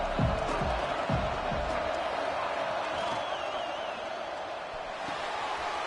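A stadium crowd at a college football playoff game between Eastern Michigan and Miami roars in a dense, steady wash of cheering, broad and distant, with scattered shouts inside it.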